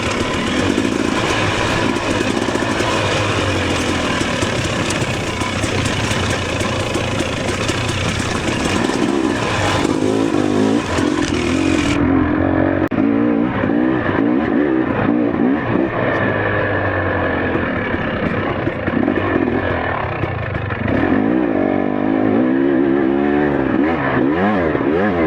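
A Husqvarna TE300 trail motorcycle engine runs continuously while riding a trail, with loud, close revving that rises and falls as the throttle changes and a rough mechanical clatter, steady throughout without any talking.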